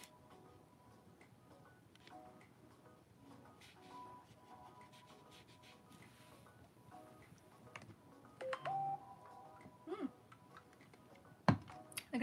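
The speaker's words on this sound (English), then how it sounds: "you might hear my phone going off" A phone gives a brief text-message alert in an artist's studio during a painting session, a short tone rising above quiet clicking, tapping and faint room noise.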